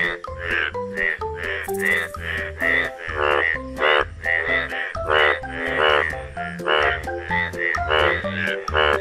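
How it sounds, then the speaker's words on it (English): Frog croaking in a children's animal puzzle game, with loud, rapid, repeated croaks in a continuous rhythmic run under bright synthetic tones, close and dominant. "Very good. Frog."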